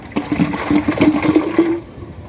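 Water pours into a bottle for about two seconds, a gurgling glug with a tone that shifts as it fills, close and fairly loud.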